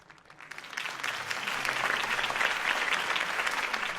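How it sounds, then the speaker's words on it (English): Crowd applause in the Batman Telltale Series game after Harvey Dent's campaign speech, a dense clapping that builds from a few claps into steady, sustained applause. "could have heard that applause"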